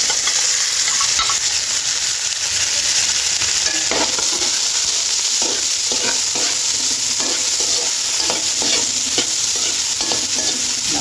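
Small-cut cauliflower florets fry in hot oil with a loud, continuous close sizzle and occasional scraping stir strokes, no speech.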